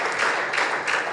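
A church congregation applauds in praise during a Spanish-language service, a short burst of steady crowd clapping at even loudness with no voices over it.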